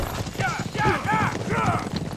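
A horse mount's hooves clip-clop steadily in the video game ArcheAge as a voice talks over the rhythmic game footsteps.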